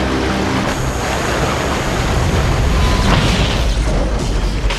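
A continuous loud rumble of crashing and roaring as a boat drives into a generator in a film, with churning water and booming impacts, dense and sustained throughout.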